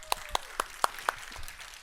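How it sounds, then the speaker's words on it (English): A few sparse, isolated hand claps ring out faintly from an audience at a tech talk, five or six sharp separate smacks spaced evenly, then fading. "Could we give Lynn a big applause?"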